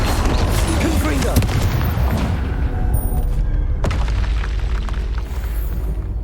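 Confringo spell blasts in the video game Hogwarts Legacy erupt in loud, dense booms and crackling bursts over a constant rumbling combat din, with one sharp hit standing out near the end.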